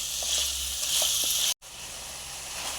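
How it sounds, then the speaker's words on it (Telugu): Chicken sizzles steadily in a hot pan while being stirred for bagara rice curry, a loud continuous frying hiss with faint stirring scrapes and a brief cut in the middle. "చికెన్ బాగా ఫ్రై అయ్యేదాకా కలుపుకున్నామండి"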